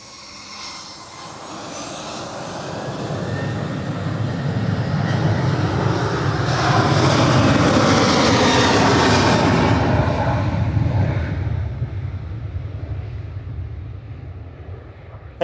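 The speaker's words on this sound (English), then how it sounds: "So it's like a turn and burn for Ryanair, 737-800 heading to Dublin with flight 559 EIEDS." A Ryanair Boeing 737-800 jet at Manchester Airport roars through a long, steady pass, swelling to a loud peak midway before slowly easing off, with broad engine rumble and a high whine.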